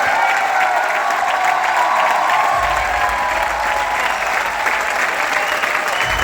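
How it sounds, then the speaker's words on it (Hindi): A large audience at a company anniversary event in India applauds loudly and continuously, a dense roar of clapping with some crowd noise and cheering throughout. "जोरदार तालियां"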